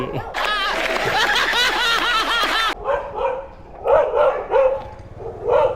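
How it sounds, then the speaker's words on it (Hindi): Dogs bark in a dense, overlapping burst while chasing a bike taxi, then drop to scattered, separate barks that continue near and loud with a faint voice beneath. "वह कुत्ते पीछे पड़ गए भाई।"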